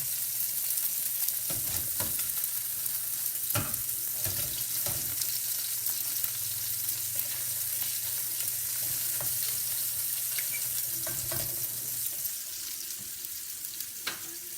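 Pork chops browning in a hot frying pan, a constant loud sizzle throughout with occasional clinks and knocks of utensils against the pan, no voices.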